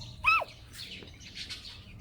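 A hen calls once with a short, sharp chirping squawk near the start, then fainter clucks and rustling continue behind it at close range with no talk.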